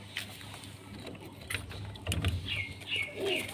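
Low pigeon coos rumble from a loft full of adult birds and newly hatched chicks, over a steady background hum with a few sharp clicks and chirps, and no talking.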